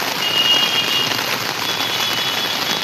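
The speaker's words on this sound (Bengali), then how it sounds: "হঠাৎ করে বিকেলের পর থেকে এরকম বৃষ্টি, মারাত্মক বৃষ্টি" Heavy rain pouring steadily outdoors in the evening, a loud, dense, unbroken wash of water close around, with no talk.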